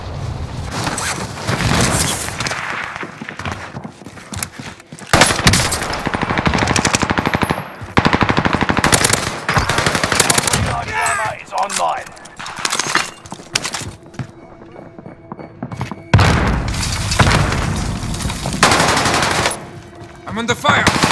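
Bursts of rapid automatic fire from an SMG in a military shooter game rattle out loud and close in several separate volleys, broken by short pauses, with game radio voices calling out in between.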